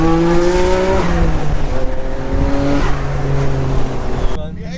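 A car with a fully rebuilt RB26 engine done by RB Motorsport at the Japfest 2024 car show, revving loudly up close in several rising sweeps, with voices nearby.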